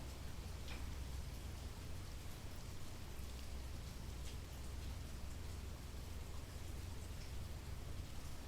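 Steady rain falls evenly, a dense hiss of drops on a surface with no pauses, soft and constant throughout.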